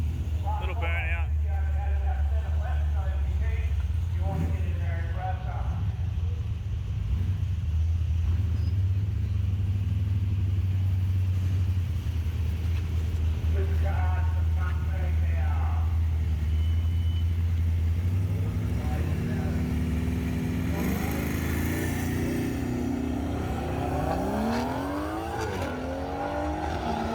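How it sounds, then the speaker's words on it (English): A BMW doing a burnout: a loud, sustained engine rumble that later rises into revving sweeps and tyre screech, with people talking over it. "Little burnout."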